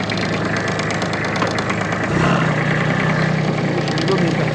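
A Kubota A-175 Aste mini tractor's small engine runs steadily nearby, shifting to a deeper, fuller drone partway through.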